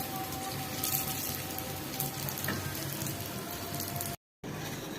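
Food frying in oil in a pan for a Ramadan meal gives a steady, dense crackling sizzle that runs close and unbroken apart from one brief cut.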